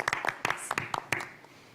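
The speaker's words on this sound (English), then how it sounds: "Let's clap." A small group applauds briefly, with a handful of sharp, uneven hand claps close by for about a second before they fade out, with speech mixed in.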